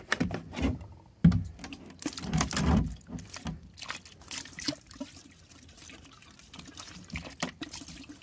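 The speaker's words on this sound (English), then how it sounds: "Next, we're gonna put some antifreeze right in that hole." Antifreeze splashing and trickling into a plumbing hole at an inground swimming pool being closed for winter, with intermittent soft pours and gurgles.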